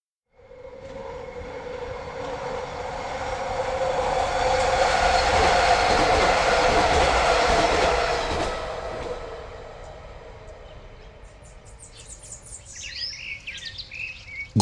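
A train sound effect in a rural Bengali ghost story rises from quiet into a heavy, rumbling roar of rolling carriages, then fades away. Birdsong chirps over the tail end.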